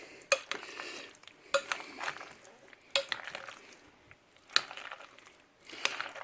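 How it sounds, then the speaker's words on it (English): A stiff tablespoon stirs potato salad in a bowl, giving wet squelching scrapes with a few sharp clinks of the spoon against the bowl in a slow, uneven rhythm, close up and without talk. "just keep stirring until you have everything nicely mixed and coated"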